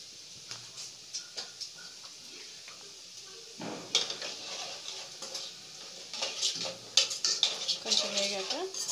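Masala being stirred in a pan for brinjal kurma, a spoon scraping and clinking against the metal in irregular bursts, faint at first and busier toward the end.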